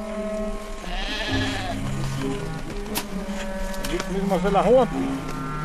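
Sheep bleat in deep snow in the Austrian Alps, several wavering cries rising near the end, with a narrator speaking over them and outdoor ambience underneath.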